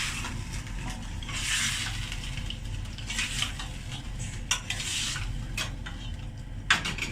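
Chicken cooks in a karahi for a smoked dhuwan chicken karahi, a continuous sizzle under scraping and clinking of a utensil against the pan, with occasional sharp knocks, close and moderately loud.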